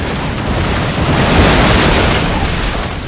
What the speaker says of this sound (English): Two broadsides.